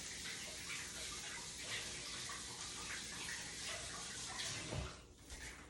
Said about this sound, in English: Rinse that onion off.